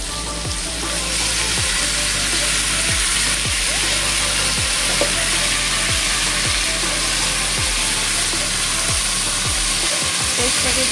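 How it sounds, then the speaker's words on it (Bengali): Spice paste fries in a pan, a loud, dense sizzle running throughout, with rhythmic clicking scrapes of stirring, and no talk. "পেস্টটাকে দিয়ে এবার ভালো করে কষাবো।"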